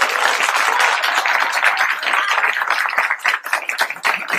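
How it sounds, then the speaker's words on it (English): Studio audience applause during a political talk show, a thick burst of many hands clapping loudly that thins and becomes more uneven toward the end. "send the applause till the end"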